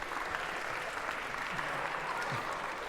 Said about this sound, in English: a round of applause, if we could, for our volunteers